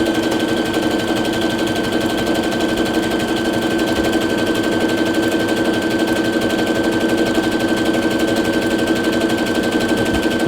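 A Brother SE625 sewing machine runs at steady speed, stitching heavier fabric with a fast, even mechanical whir and needle chatter, loud and close, continuous with no talk.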